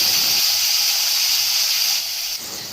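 Cut potatoes dropped into hot oil with fried hing tempering in a home kitchen pan while making vegetarian mochar ghonto, giving a loud, steady sizzling hiss that eases slightly near the end.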